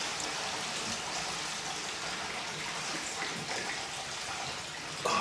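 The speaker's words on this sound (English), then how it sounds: "Pour it in our gin vat" Continuous hiss-like splashing of liquid poured into a gin vat at Killowen, an artisan Irish whiskey distillery in County Down, Northern Ireland. The pour stays steady for about five seconds, with a brief knock at the end.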